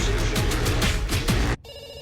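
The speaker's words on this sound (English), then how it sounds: "We pick up the phone because it's ringing." An electronic telephone ringtone trills in quick repeated pulses, loud and close, then cuts off abruptly as the handset is picked up.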